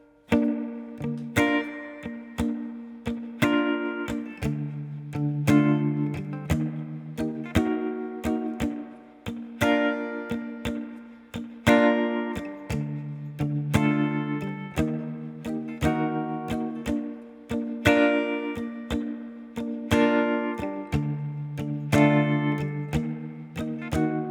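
Guitar strummed through the verse chords of a song in a steady six-count rhythm, each stroke ringing out clearly and continuously on its own with no voice over it.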